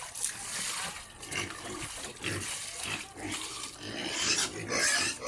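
Wet slurping, snuffling and splashing from pigs eating feed mixed with water close by, continuous and messy, with occasional grunts and a voice speaking over it.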